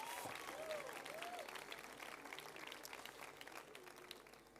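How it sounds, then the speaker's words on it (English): Faint, distant applause from a theatre awards audience, a soft wash of clapping held steadily throughout, with a brief tonal sweep near the start and faint voices in the background. "applause, please, for Kaylin Ndlovu and Zinzi Nokaku."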